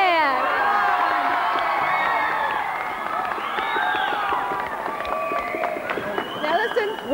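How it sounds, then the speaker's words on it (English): A crowd cheers and applauds in the Auckland Town Hall during the 1988 New Zealand Telethon, a sustained roar of voices and clapping that carries on steadily, with shouts and whistles rising above it. "Big cheer for Blair."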